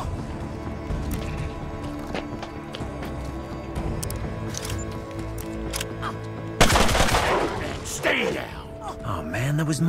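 Gunfire from the Mutant Year Zero: Road to Eden video game, a burst of loud shots breaking out late over a steady game soundtrack, with talk continuing alongside.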